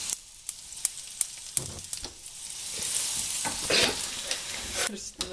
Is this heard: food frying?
yes